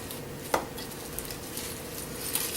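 Spoon stirring a thick homemade carob mixture in a small bowl, giving quiet scraping with a few light clinks against the bowl, faint and close with no talking.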